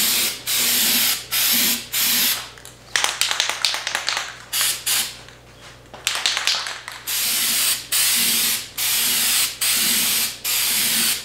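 A paint spray gun sprays flake paint onto a guitar body in a series of short, loud hissing bursts separated by brief pauses, with a few clicks and rattles in between.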